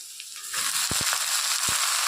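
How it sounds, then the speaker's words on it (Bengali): Vegetables fry loudly in a pan as spinach is tossed in, a dense sizzling hiss with a few sharp thuds and pops as the leaves land, no voices present. "লাল লাল করে ভাজা হয়ে গেছে, এর মধ্যে দিয়ে দিব পালং শাক"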